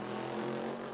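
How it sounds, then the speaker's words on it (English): A helicopter flying over the racetrack at Bathurst in a GT3 sim racing game, a steady loud droning engine and rotor roar with no break. "Oh, that's a helicopter."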